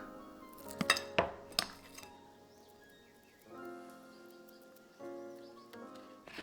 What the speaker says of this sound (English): I am going to use an ice cream scoop.